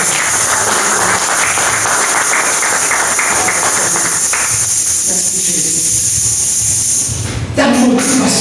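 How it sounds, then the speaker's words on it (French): A church congregation applauds and cheers, filling the space with loud, dense clapping that is sustained for several seconds before it fades and a voice briefly comes in. "Est-ce qu'on peut acclamer Emmanuel"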